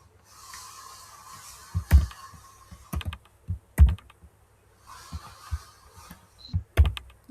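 Computer keyboard typing with scattered key presses and a few louder sharp clicks, including copy-and-paste shortcuts, over a low steady hum, fairly close and alone without speech.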